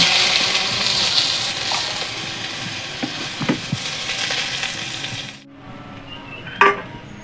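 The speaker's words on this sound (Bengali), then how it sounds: "এতে লঙ্কা আর পাঁচ ফোড়নটা দিয়ে দিচ্ছি একটু সর্ষে ফোড়ন দিয়ে এবার আমগুলো দিয়ে" Raw mango pieces frying in hot oil with chili, panch phoron and mustard seed tempering give a steady, close sizzle. There are a few stirring clicks partway through, then a sudden drop to quiet and one brief clatter near the end.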